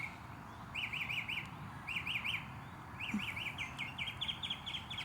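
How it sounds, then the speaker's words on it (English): Morning birdsong from a tree in the Sugar Land and Stafford area, with a small bird repeating quick bright chirping phrases in bursts over a steady background hum, fairly close and clear. "Yeah, we got a lot of birds."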